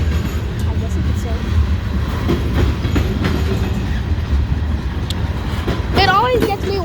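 A CSX freight train led by a lashup of five EMD locomotives rolls past, a steady loud rumble of wheels and engines throughout, with a horn-like tone rising near the end and people talking over it.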